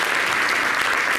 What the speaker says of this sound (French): Merci d'applaudir Jess Abi qui va regagner son siège